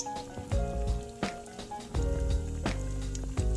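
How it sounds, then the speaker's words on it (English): Battered cauliflower wings frying in hot oil, a loud crackling sizzle with repeated sharp pops and spits that rise and settle in bursts, close by and with no talking. "I never like frying stuff."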